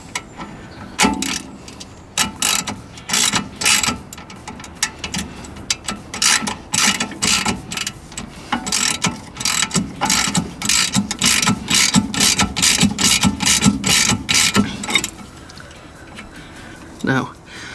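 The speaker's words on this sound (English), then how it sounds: "Get the spanner in." A spanner ratchets in rapid bursts of clicking while tightening the rear anti-roll bar bolts on a 9N3 GTI track car, with repeated close, loud runs of ratcheting separated by short pauses.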